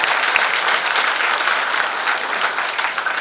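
Steady, dense applause from an audience at an award distribution ceremony, many hands clapping together at full, even loudness for about three seconds with no voices over it.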